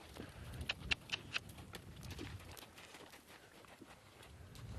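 Horse hooves walking during obstacle training over logs, a few sharp clip-clop impacts early on, then softer, irregular footfalls against a steady outdoor background.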